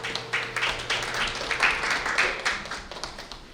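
A seated audience at a Korean policy forum on port authority autonomy claps to welcome a speaker, a steady patter of moderate applause from a small crowd that carries on evenly throughout, with no voices over it.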